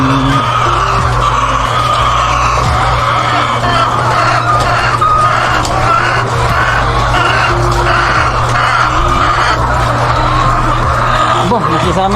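Laying hens cluck in a chicken layer house, a steady dense chatter of many birds over a constant low mechanical hum, with a voice talking over it.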